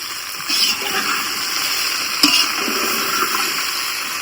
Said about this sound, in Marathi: तर आता मी याच्यात ना गरम पाणी ओतलंय